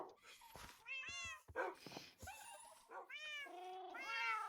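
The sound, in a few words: cats meowing in Minecraft video game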